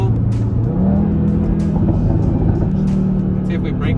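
A car accelerating hard from a 40 mph roll, its engine droning loud and steady as it pulls, with a rising tone and faint voices inside the cabin.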